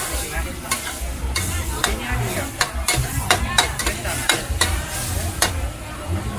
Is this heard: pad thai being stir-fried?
yes